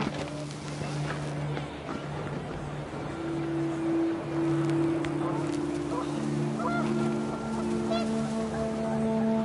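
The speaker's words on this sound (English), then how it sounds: "The wind picked up, and panicked geese appeared and quickly went." Panicked geese honking in the video game What Remains of Edith Finch, several sustained honks over gusting wind, moderately close and growing busier toward the end.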